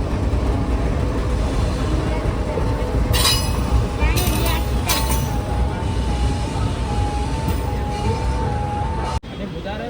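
A passenger train on the Hyderabad to Goa line rolls into the Shadnagar station with a loud, steady rumble, a sustained high wheel or brake squeal and a few sharp bursts of metallic hiss before an abrupt drop at the end.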